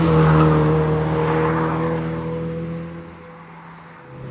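A 1990 Mazda Miata MX5 is driven flat out on a race track, its engine droning steadily at high revs and then easing off as the note falls and fades, loud and close throughout.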